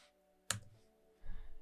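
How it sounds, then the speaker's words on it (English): Numbers are typed on a computer keyboard while drawing geometry, a single sharp key click followed by a softer burst of tapping, close and quiet with no talk. "Then I start by typing 76."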